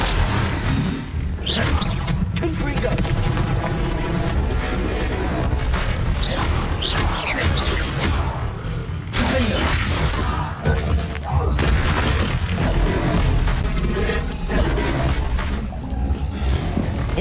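Hogwarts Legacy combat with repeated Confringo explosive spells, loud booms and whooshing blasts over a dense, continuous battle din with brief surges.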